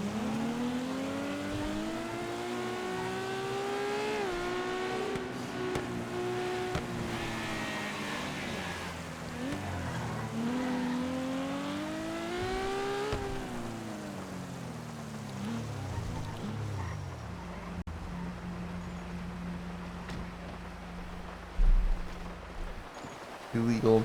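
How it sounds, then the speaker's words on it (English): A car engine in GTA V revs and whines through rising and falling pitch sweeps as it accelerates, with a player talking over it and a few sharp knocks near the end. "I like your car because it sounds like a rocket ship."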